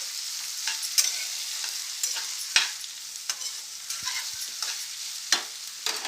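Sliced okra frying with coconut, salt and turmeric in a pan, stirred with a spoon: a steady soft sizzle broken by repeated scraping strokes against the pan, close and without any talking.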